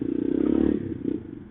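TTDS 200 motorcycle with an Akrapovic exhaust, its engine giving a brief, close, rapid throbbing burble with a rough pulsing exhaust note that swells and fades over about a second and a half.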